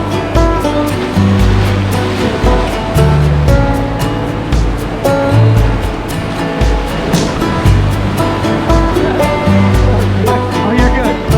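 Class 2-3 whitewater rapids on the West Fork of the Tuckasegee River rush continuously in a loud broadband roar, with a thumping, shifting backdrop and occasional voices partly under the water noise.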